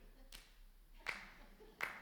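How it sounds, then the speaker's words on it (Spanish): Three slow, evenly spaced claps in the measured cadence of an audience politely applauding, faint and somewhat distant against near silence. "Pero además aplauden con esta cadencia como de"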